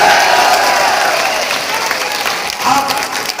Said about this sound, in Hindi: आप सब लोग उनके स्वागत में एक साथ ताली बजाएं